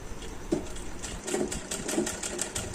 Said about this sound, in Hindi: अब हम दूसरी पट्टी को डोरी में 3 उंगलियों की गैप पर कुछ इस तरह रख कर तिरछी सिलाई कर देंगे।